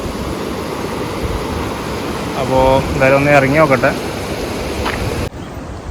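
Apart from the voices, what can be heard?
flowing river water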